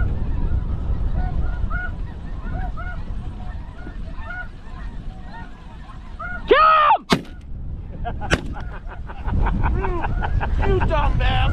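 Geese honk repeatedly through the roar of strong wind during a goose hunt, then two sharp, loud shotgun blasts ring out close by, followed by more gusting wind.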